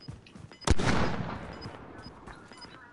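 A single loud sniper rifle shot from enemies in a shooter game cracks near the start and decays into a long rolling echo, with faint distant shots around it.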